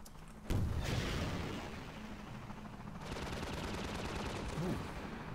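Gunfire from Half-Life 2: The Lost City as an enemy is shot down: a sharp report opens into sustained rapid weapon fire and rumbling combat noise that runs loud and dense throughout.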